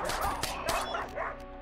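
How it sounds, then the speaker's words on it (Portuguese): Dogs in the video game RimWorld fight robots, giving several quick yelps and barks in close succession over brief game noise, fairly loud and without talk. "Deixa os robôs brigando aí com os cachorros."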